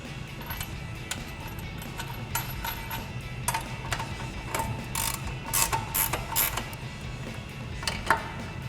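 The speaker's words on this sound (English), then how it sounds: "we're just gonna grab a 21mm ratcheting wrench to tighten this down" A 21mm ratcheting wrench tightens a castle nut on a RAM 1500 pickup during a lowering kit install, giving rapid, close, clicking pawl ratchet bursts with short pauses between strokes.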